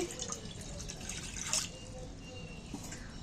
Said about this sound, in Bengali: কড়ায় এক মগ জল দিয়ে দিচ্ছি